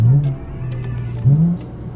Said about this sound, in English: I'm blipping the throttle as I'm downshifting to rev match.